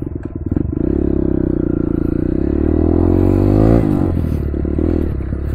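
A Kawasaki KLX 140 off-road motorcycle ridden close by, its small single engine buzzing loud and steady with a rising rev, a brief dip, then picking up again, with no talk.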